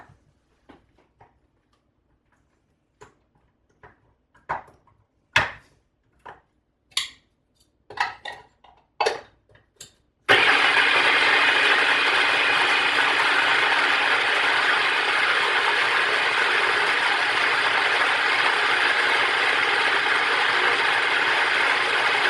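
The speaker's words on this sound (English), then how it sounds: "Take this over to our food processor." A food processor whirs loudly and steadily with roasted vegetables inside, starting abruptly halfway through and running on alone after a stretch of sparse clicks and clatter.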